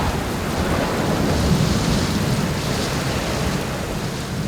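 Steady heavy rain with a low thunder rumble from a monsoon-season storm, a dense continuous wash of noise that holds loud and even throughout, with no voices.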